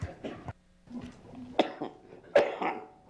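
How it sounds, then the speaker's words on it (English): A man's cough in a council chamber during a recorded municipal meeting, two or three sharp close bursts among low room noise and brief murmurs. "I apologize for this cough."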